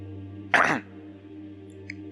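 A single short, throaty cough bursts out over a low steady hum, followed by quiet.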